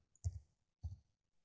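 A computer mouse is double-clicked twice at close range, two short sharp clicks about half a second apart in an otherwise quiet setting.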